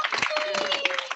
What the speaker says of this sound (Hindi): भरपूर तालियां बजाएं।